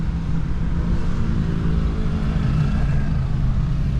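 Road traffic near a Metro Manila airport terminal, a steady low engine rumble of slow-moving vehicles heard close and loud throughout.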